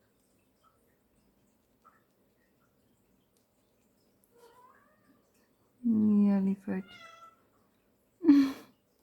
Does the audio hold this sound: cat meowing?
yes